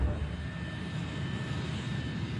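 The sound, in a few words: jet airliner taxiing to the runway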